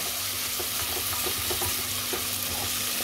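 Tomatoes sizzle steadily in a hot pan with soft scraping strokes as they are stirred, a continuous close frying hiss with no voices.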